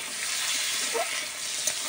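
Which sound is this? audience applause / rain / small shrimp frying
small shrimp frying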